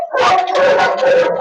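Dog howling and yelping close by, a wavering, whining howl with short bark-like bursts over a second and a half, no talk; a large breed being trained for aggression.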